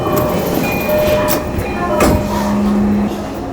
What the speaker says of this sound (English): This is an overline train for Okutama. This is a short extension of the Ome line.